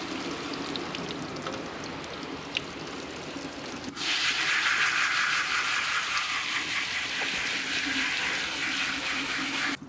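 Water sprays down onto carpeted boat bunks, rinsing away a soaked-in cleaner. It starts as a softer trickle, then after a few seconds becomes a loud, steady hose rush that carries on to the end.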